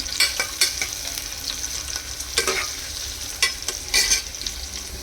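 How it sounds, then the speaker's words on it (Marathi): Sliced onion shallow fries in oil in a pan, a steady sizzle broken by repeated scraping strokes of a spatula at an irregular rhythm, close and fairly loud, with no talk. "कांदा छान लालसर असा तळून घ्यायचा आहे म्हणजे शालो फ्राय करून घ्यायचा आहे"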